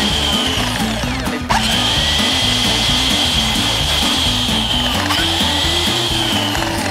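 A power drill whines steadily and loudly for several seconds, its motor pulsing underneath, with one brief catch partway through.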